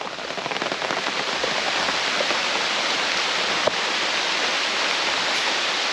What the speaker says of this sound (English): if it's raining, it'll be like this